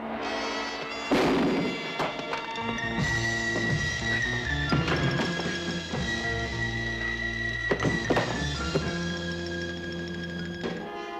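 Gunshots ring out in a dramatic TV scene from Randall & Hopkirk (Deceased), several sharp cracks and bangs punctuating a sustained musical score, with no speech during the burst.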